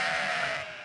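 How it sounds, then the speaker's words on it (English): A single sheep on a farm gives one short, loud bleat, close by and alone. "Adam and Jolene rotate their sheep around the land of 3 neighboring properties"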